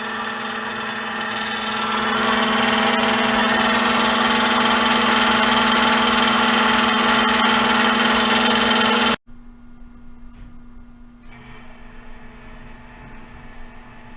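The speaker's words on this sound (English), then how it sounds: "I can go ahead and start my fuel oil transfer pump. That's a normal sound. Little rotary gear pump." Small rotary gear fuel oil transfer pump moving fuel up to a diesel generator day tank, a steady humming whine at close range that cuts off abruptly partway through, leaving a quieter background hum.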